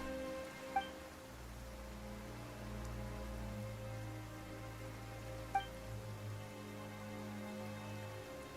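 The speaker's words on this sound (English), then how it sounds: "Why is it raining all of a sudden?" Steady rain patters across the scene in the Genshin Impact video game, a soft continuous hiss with a low ambient music bed underneath and a couple of faint chime-like accents, no voices.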